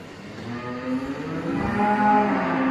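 Simmental beef calves moo on a farm, one nearby call rising and swelling over a few seconds.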